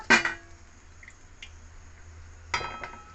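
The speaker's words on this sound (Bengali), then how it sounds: "কতটা মচমচে হয়েছে, রাখার সময় শব্দতেই বুঝতে পারছো।" Crispy fried chilli fritters are set down on a plate, two close clattering taps at the start and end with faint small knocks between them, over quiet kitchen background.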